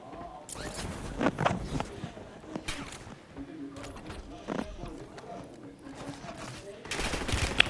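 Gunfire in the mobile shooter Warzone Mobile, bursts of automatic weapon fire and single shots spread through the stretch, mixed with footsteps and game effects, while a player talks over the action.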